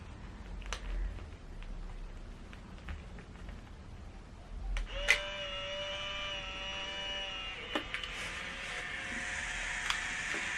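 An instant camera takes a selfie: a sharp shutter click, then a steady mechanical whirring as the motor pushes out the print, with a second short whir near the end, close up and without talk.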